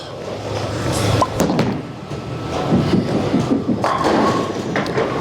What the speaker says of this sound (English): you heard the ball thump down the lane